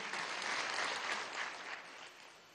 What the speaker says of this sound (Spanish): mira cómo la aplauden sus alcaldes